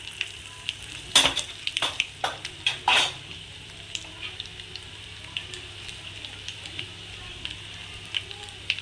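Garlic, dried red chillies and mustard seeds sizzle and crackle in hot oil as a tempering for sambar, with sharp bursts of popping early on settling into a steady lighter frying hiss.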